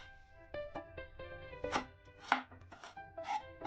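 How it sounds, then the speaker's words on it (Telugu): A medium-sized onion is chopped with a knife on a board, a series of crisp, distinct knife strikes in an uneven rhythm, some quicker taps and a few louder chops, close and clear with no talking. "మీడియం సైజ్ ఆనియన్ అండి, చక్కగా కట్ చేసి వేసుకోండి."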